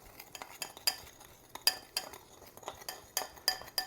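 Seasonings are mixed in a bowl with a utensil, giving close, irregular clinks and scrapes spread across the clip, with quiet gaps between strokes and no talking.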